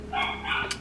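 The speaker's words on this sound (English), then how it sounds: "I'm sorry if you hear my puppies barking" Puppies barking close by, a couple of quick high yips and barks in under a second with no talking over them.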